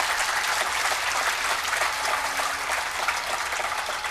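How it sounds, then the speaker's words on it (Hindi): An audience at a spiritual discourse claps with both hands in a dense, sustained burst of applause that stays loud and even throughout. "और अगर ताली भी बजाओ तो दोनों हाथों से,"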